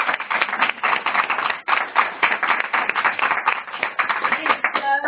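An audience claps steadily in honor of a guest's mother, a dense, continuous round of applause running the whole stretch at close range, with a brief dip partway through.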